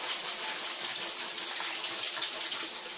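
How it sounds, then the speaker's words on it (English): Tap water runs in a steady, hissing stream over brown and white mushrooms being rinsed in a kitchen sink, close and continuous with no talking. "I'm going to rinse that off."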